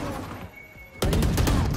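Gunfire in the video game Valorant: after a second of quiet, a loud burst of several rapid, close shots erupts and rings out to the end.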